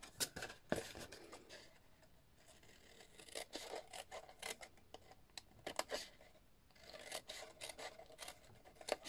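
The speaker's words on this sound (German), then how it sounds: "Ich schneide wieder neben der Falzlinie." Paper is cut with scissors next to a fold line during a papercraft box build using designer paper. The snips are faint and close, coming as short, scratchy bursts in an irregular rhythm with quiet pauses between cuts.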